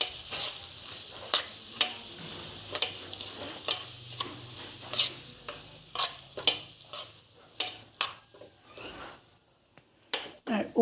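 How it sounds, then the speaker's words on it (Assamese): Radish pickle being stirred in hot oil, with repeated scraping and clinking of a utensil against the pan in an uneven rhythm over a light sizzle, close by. "এতিয়া ভালদৰে লৰাই দিছোঁ"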